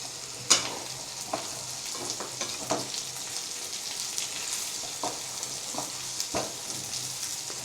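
Eggplant curry with masala cooking on low flame in a pan, a soft continuous sizzle broken by scattered scraping taps of a spatula stirring, with no talking.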